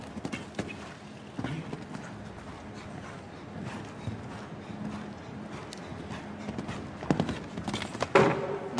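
Horse hooves thud and clatter in an irregular rhythm over a show jumping course, fairly loud and close, with a sharper burst near the end as a fence is cleared, amid arena background noise and no speech.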